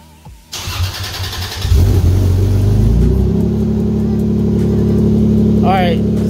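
A 1993 Toyota Supra with a 2JZ-GE engine and HKS catback exhaust starts up and settles into a loud, deep, steady idle with a slight exhaust leak, close by.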